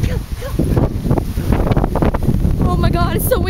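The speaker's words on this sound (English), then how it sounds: "Oh my god, it's so windy." Strong stormy wind on a deserted outdoor spot buffets the microphone in loud, rough low rumbles with gusty surges, while people exclaim and talk over it.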